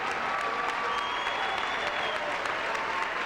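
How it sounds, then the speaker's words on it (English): Illinois Wesleyan basketball fans give a departing opposing player a large, sustained ovation mixed with mock cheering at a 2004 college men's game in a gym, a steady dense wash of clapping and crowd noise throughout. "Get a large ovation from the fans, the Illinois Wesleyan fans, with a little bit of a mock cheer"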